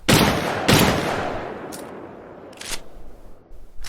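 A double barrel shotgun firing in a Battlefield-style shooter game, with two loud booming blasts that ring out and decay, followed by sharper mechanical clicks and clacks of the weapon being handled.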